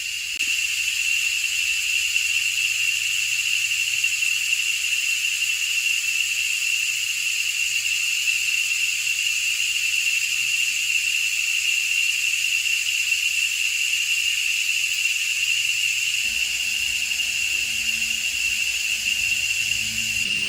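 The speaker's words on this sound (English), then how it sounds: "And the cicadas are very loud right now." Cicadas in a Costa Rican jungle drone in a loud, continuous, high-pitched buzz that holds steady throughout, with a faint low rumble appearing near the end.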